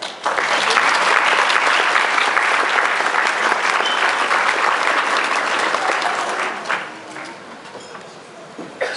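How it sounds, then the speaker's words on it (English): Graduates at a 2012 NAU physical therapy graduation ceremony give their invited guests a loud, dense round of applause that holds steady, then thins and fades near the end. "give everyone here a round of applause that you invited"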